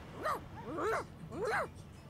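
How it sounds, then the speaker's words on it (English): Dog whining and whimpering in Divinity Original Sin, three rising-and-falling whine calls in quick succession, fairly close, with no talk over them. "The dog whines okay, and continues pawing at"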